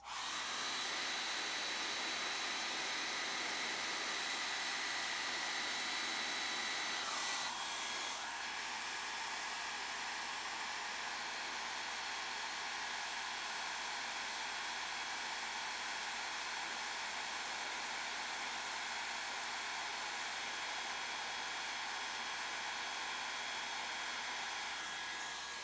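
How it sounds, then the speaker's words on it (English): A hair dryer heating a sticker on a plastic moped part to soften the adhesive: a loud, continuous whooshing whine that runs steadily for the whole stretch, with a brief change in tone early on and no speech. "Need the hairdryer."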